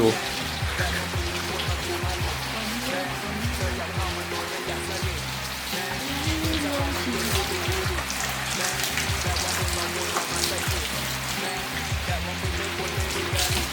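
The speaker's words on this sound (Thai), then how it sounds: "ดูบรรยากาศรอบๆครับล้างรถไปฝนตกไปนะครับ" Rain patters densely and steadily on surfaces around a Toyota Yaris Ativ while its engine bay is being washed. The downpour is close and continuous, and people talk under the hiss of the rain.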